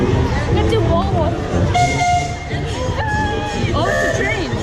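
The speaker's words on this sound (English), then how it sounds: "Oh, it's a train." A train passes nearby, its rumbling joined partway through by sustained horn tones, while people talk excitedly and background crowd chatter continues throughout.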